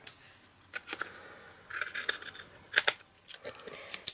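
Scissors cut leftover card off a handmade butterfly card, giving a series of close, crisp snips and rustles of paper, fairly quiet, with no talk.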